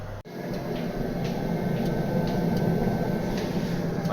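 Roca Laura propane gas boiler burning badly, giving a steady roaring rush of combustion with faint ticking and a sharp dropout near the start, heard up close and fairly quiet.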